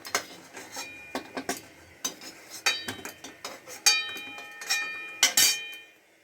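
Boiled eggs and potatoes are lifted from a pot into a bowl in a home kitchen, giving a string of close, sharp clinks and knocks of utensil on metal and crockery, irregular and separated by short pauses.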